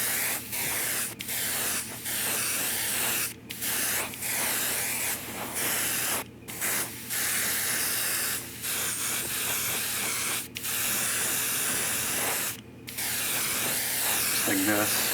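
Aerosol coat sprayed onto a quarter-scale Spider-Man sculpture, a close, loud hiss in repeated long bursts separated by brief pauses.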